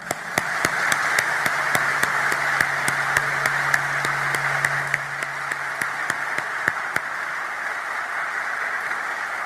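Applause from an audience at a formal address, a steady wash of many hands clapping over a constant hum, with sharp isolated claps cutting through near the front.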